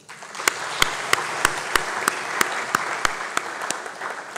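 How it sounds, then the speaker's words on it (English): An audience at a lecture on Julius Nyerere breaks into applause. Steady crowd clapping is punctuated by a regular series of loud, sharp claps from someone close by, roughly three per second. "Another round of applause."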